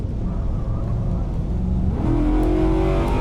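Engine of a Spec P71 car in the Assetto Corsa racing game, droning steadily and then rising in pitch as it revs up through the gears after a corner, loud and continuous.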